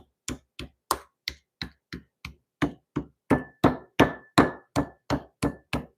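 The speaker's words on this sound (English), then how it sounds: "with pork, giving them a good hammer will allow them to get a bit more tender too" A mallet pounds pork cutlets on a board in a steady series of about sixteen sharp thuds, close and evenly spaced, growing slightly louder partway through.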